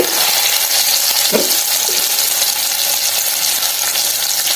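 Garlic and onion sautéing in a pan for a prawn gravy, a loud, continuous close sizzle and hiss with a brief stirring scrape, no talk over it.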